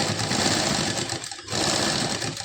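A sewing machine stitching the side seam of a salwar runs in a fast, steady mechanical whir up close. It pauses for a moment partway through, then picks up again.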